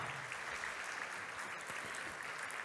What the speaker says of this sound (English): please a big applause for our international president